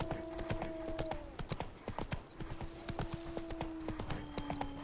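A horse trots in The Witcher 3: Blood and Wine, quick rhythmic hoof clip-clops close by over a steady tonal hum of background music, continuous throughout.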